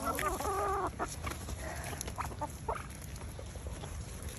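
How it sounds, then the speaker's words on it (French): Chickens cluck in a short burst of squawky calls at the start, then softer scattered clucks continue over a noisy farmyard background. "Téléman, c'est pas trop bien d'avoir des poules?"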